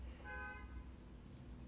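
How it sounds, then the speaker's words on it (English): A car horn honks once outside a house in a crowded neighbourhood, a steady held toot of about a second heard from a distance over low background rumble, with no talking. "Some dude is honking outside my house."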